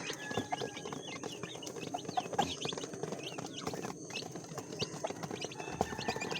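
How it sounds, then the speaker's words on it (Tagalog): A hen with her chicks clucks steadily among other farmyard chickens at feeding time, a dense, busy chorus of close clucks and peeps with no talking. "Yan po ating isang inahin na may sisiw na rin."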